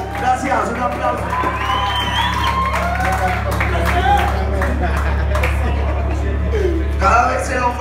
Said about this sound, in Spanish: Gracias, un aplauso.